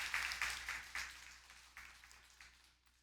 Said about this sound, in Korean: 우리 한 번 더 주님께 큰 영광의 박수 함께 올려드리도록 하겠습니다.